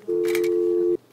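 A document delivery robot at a city hall office door places a phone call to the staff member receiving the documents; a single steady electronic call tone sounds loud and close for nearly a second, then cuts off cleanly.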